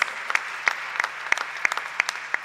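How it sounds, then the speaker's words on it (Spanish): An audience at a national university debate final in Chile gives applause, a dense, steady patter of many hands clapping in a large hall, sounding moderately near and continuing without speech. "Un fuerte aplauso para las universidades que participan a lo largo de todo el país"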